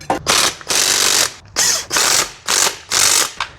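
Ratcheting bursts from a hand wrench snugging bolts on a Ford Ranger transmission during installation, six rapid clicking runs close by with short pauses between them.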